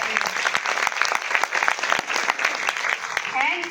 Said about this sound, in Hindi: इनके लिए एक जोरदार तालियां हो जाए।